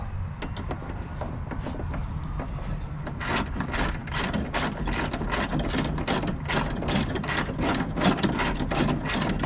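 Ratchet fitted with a 12 mm socket driving bolts into a plastic Honda mower deck: a faint mechanical whir first, then a fast, steady train of loud clicks up close.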